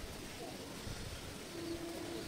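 A pet pigeon coos softly with a low, brief hum near the end, faint under steady background noise.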